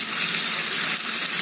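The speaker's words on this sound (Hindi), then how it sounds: "आधा कप पानी डाल देंगे।" Half a cup of water is poured into a hot pan holding fried chillies, sugar and curry leaves, a continuous loud hissing splash that lasts throughout, close by and with no voices.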